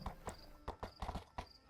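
Horse hooves clip-clop in an uneven rhythm during a ride, about eight fairly close, soft thuds with faint insect chirping in the background and no talking.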